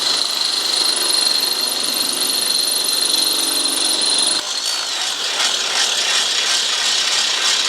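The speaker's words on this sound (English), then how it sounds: "we're going to actually drill with a 1/2 inch drill bit" Power drill boring two holes with a 1/2 inch bit through the steel frame rail of a Ford F-150 pickup, a steady high whine with grinding and scraping that shifts in character partway, loud and close with no talk.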